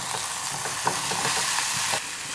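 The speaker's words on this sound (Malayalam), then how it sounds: "ഇനി ഇതിലേക്ക് നമുക്ക് വേവിച്ച് വെച്ച കപ്പ കൂടി ഇട്ട് കൊടുക്കാം" Cooked tapioca tipped into a spicy fish curry in a pan, giving a steady close sizzle broken by a few soft knocks and stirring scrapes.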